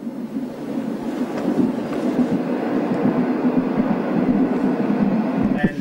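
A train passes near an outdoor film location, a steady low rumble and rolling rattle holding at an even, fairly loud level throughout, with wind buffeting the microphone and a brief metallic squeal near the end.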